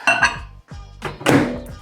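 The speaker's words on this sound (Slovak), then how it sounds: "teraz to šupneme do môjho obľúbeného stroja a to je mikrovlnka" A dish of apple and poppy-seed protein cake being set into a microwave, giving two or three close ceramic clinks and thunks against the oven interior.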